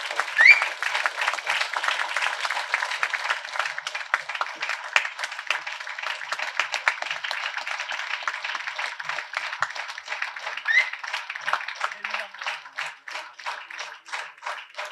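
A large audience at an award ceremony applauds steadily for the whole stretch: dense, even clapping, loud and sustained, with no talking over it.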